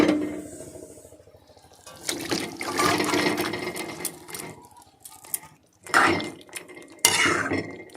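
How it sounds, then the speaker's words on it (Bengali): Cooked duck meat is tipped from a pressure cooker into a wok, with loud metallic clatter and scraping of pot and spoon in uneven bursts, and a sharp clank near the end. "এবার দেখুন কুকারটা খুলে মাংসটা কিন্তু আমি আবারও একবার কড়াইতে দেব।"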